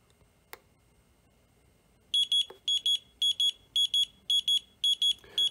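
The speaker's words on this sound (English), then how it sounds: "It will start beeping for about 5 to 6 seconds, and that is the duration of the binding mode." A Radiomaster T8 Lite radio controller in binding mode emits high-pitched electronic beeps in paired bursts, repeating steadily for several seconds, clear and close, with a couple of faint clicks before.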